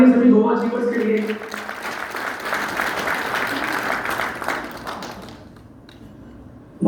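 Loud applause from a crowd at a business meeting cheering Goa achievers, starting under a speaker's voice and continuing as dense clapping for several seconds before tapering off.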